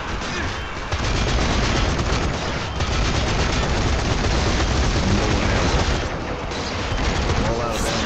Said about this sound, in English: Like someone was shooting at me.